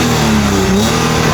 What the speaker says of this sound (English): I gave it a couple revs.